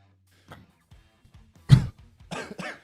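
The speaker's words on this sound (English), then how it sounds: "that was a Red Bull burp that turned into a cough" A Red Bull burp that breaks into a cough: a short low belch-like burst, then two quick harsh coughs close to the mic, with faint small noises before it in an otherwise quiet room.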